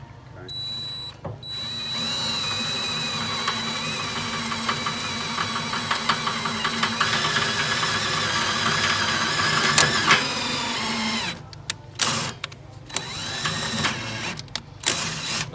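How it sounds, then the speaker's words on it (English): A cordless drill grinds a bit through steel, a loud continuous whining drone that labors and stalls near the end, then breaks into short bursts as the trigger is pulsed. "And you might even see the drill bit stall, like it's doing right here."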